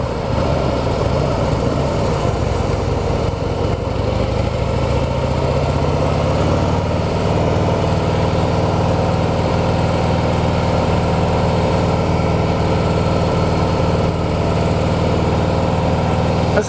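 A 2016 Harley-Davidson Heritage motorcycle engine with a standard cable clutch runs steadily in third gear, a loud continuous low rumble that shifts slightly in pitch partway through before settling into an even drone.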